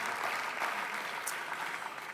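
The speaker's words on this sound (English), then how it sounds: "let's give them a big round of applause" A room full of people at a sports awards evening claps steadily, a dense even patter of applause.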